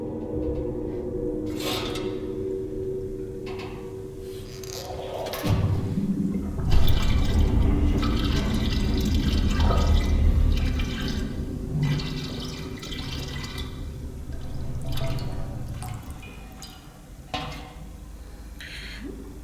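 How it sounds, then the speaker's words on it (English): In the Silent Hill 2 remake, an empty fuel can is filled with water, giving a long, close run of pouring, gurgling and splashing with scattered drips and bursts, and no talk over it. "I like the fact that they added like the little splash."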